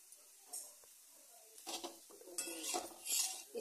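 A spoon scrapes and stirs cumin, red chili powder and turmeric roasting in a pan for paneer do pyaza, with soft clinks and faint sizzling at close range.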